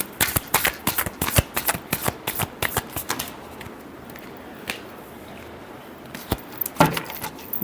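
Tarot cards being shuffled by hand, quick rapid riffling bursts up close, then a quieter pause and a few more flicks near the end, no talking.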